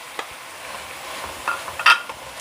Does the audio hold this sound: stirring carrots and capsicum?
yes